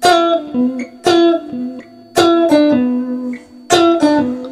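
A short electric guitar lick played solo, a few plucked notes in a repeating phrase with sliding pitches, clear and close.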